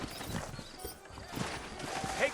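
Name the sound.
horses' hooves clopping, from video game Red Dead Redemption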